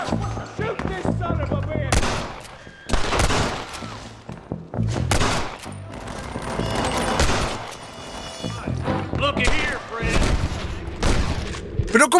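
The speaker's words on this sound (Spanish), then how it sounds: "a probar el rifle de Winchester contra algo que no sea madera" Repeated Winchester rifle gunshots from the PC version of the video game Red Dead Redemption: loud booming blasts and gunfire bursts come in quick succession, with someone talking throughout over the shooting.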